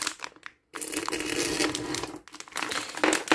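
Crinkling and crushing plastic as a Lego Movie 2 minifigure blind bag is torn open, close and loud, with a brief silent gap before more rustling.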